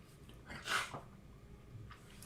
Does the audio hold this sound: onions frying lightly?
no